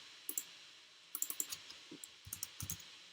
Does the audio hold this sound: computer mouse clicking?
yes